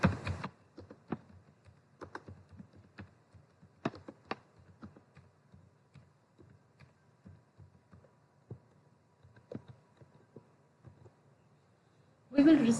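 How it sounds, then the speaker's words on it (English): Irregular clicking of keys on a computer keyboard, close by, in short bursts with pauses, over a quiet background hum. "I am typing here."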